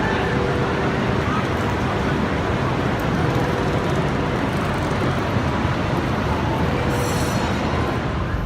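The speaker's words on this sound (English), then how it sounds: "Chinese version of high-speed railway bullet train." Steady, broadband rumble of a Chinese high-speed bullet train running on rails, a continuous rushing roar throughout with a faint hiss near the end.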